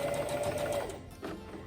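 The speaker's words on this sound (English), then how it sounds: "And a back stitch at the end." A home sewing machine running a short back stitch at the end of a seam with a 5/8 seam allowance, a steady close mechanical whir that stops partway, followed by quieter handling.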